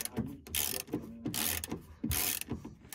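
A hand ratchet turning nuts under a vehicle panel, giving repeated bursts of crisp clicking in quick strokes, close and loud with short pauses between swings.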